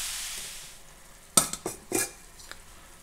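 Ground beef browning in a pan for Mexican picadillo, a soft steady sizzle broken by a few sharp scrapes and clatters of a utensil stirring against the pan.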